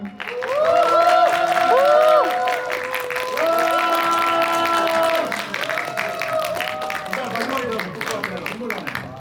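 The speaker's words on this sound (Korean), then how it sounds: "나오실 때 큰 박수 쳐주시면 더 힘이 날 것 같습니다. 큰 박수 부탁드릴게요." Cinema audience applauds as actors come out for a final stage greeting before a screening of the film 'Boss', a steady crowd clapping under loud, sustained cheering and overlapping voices for most of the stretch.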